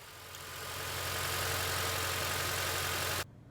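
A 2006 Acura TSX engine idles roughly with a faulty ignition coil 2 and its plug wire removed, a steady close low drone with a broadband hiss that cuts off abruptly near the end.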